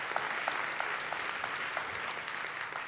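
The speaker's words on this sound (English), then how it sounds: "Shall we give them a round of applause for everyone that worked on it?" A conference audience gives a round of applause, a steady, even roar of many hands clapping at a moderate distance, continuing unbroken for a few seconds.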